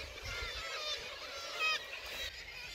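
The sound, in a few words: kittiwakes calling at coastal colony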